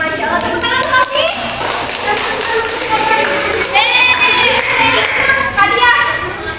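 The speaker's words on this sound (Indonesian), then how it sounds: "tepuk tangan lagi" Children in a fourth-grade classroom clap together, a dense patter of rapid claps and taps mixed with lively young voices chanting and talking throughout.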